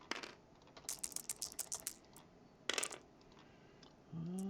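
Dice clatter in quick bursts on a tabletop during a Cold War era war game, with a scatter of sharp rattles early on, another short burst later, and a brief low voice at the very end.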